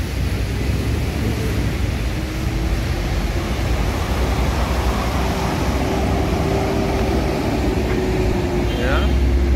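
Large Padang intercity buses rumble past on a road, a continuous loud engine drone with a steady low hum and passing traffic noise.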